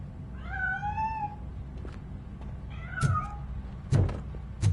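A cat in the video game RoboCop on PS5 meows twice in drawn-out, wavering cries, followed by a few dull thumps and knocks.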